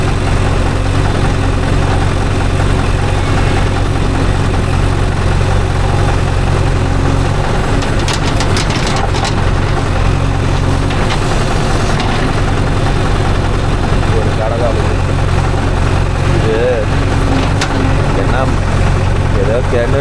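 A JCB 3DX backhoe loader's diesel engine runs while it loads soil into Mahindra tractors. A steady, heavy low rumble and idle hum continue throughout, with a voice talking over it.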